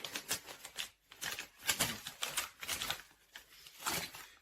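A postal envelope package being torn and opened by hand, a run of close, crisp paper rips and rustles in uneven bursts.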